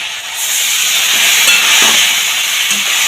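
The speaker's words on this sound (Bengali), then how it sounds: "এখানে একটুখানি জল দিয়ে দেবো বাটিটা দিয়ে।" Water poured into a pan of frying vegetables with chili, cumin and ginger paste erupts into a loud, continuous steamy hiss and sizzle that holds steady from start to finish.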